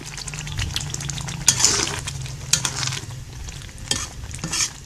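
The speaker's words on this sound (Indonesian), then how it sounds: "Aduk terus sampai agak mengering atau sambal matang." Spicy chili sambal frying in a pan, stirred continuously with scraping spatula strokes and occasional metallic clinks over a low steady sizzle, close and fairly loud.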